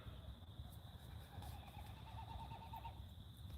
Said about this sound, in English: I don't know what that bird is, but it's cool sounding.